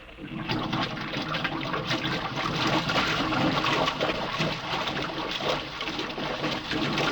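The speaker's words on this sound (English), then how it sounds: "Water's being pumped out." A radio-drama effect of water being pumped out of an airlock: a steady, loud rushing and gushing of water that carries on for several seconds without a break, with no voices.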